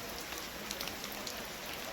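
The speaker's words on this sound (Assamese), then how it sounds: "ঘৰত যাব পৰাই নাই পুৰা বৰষুণ দি আছে" Heavy rain pours down steadily, a dense, even hiss of drops on surfaces with no break and no voices.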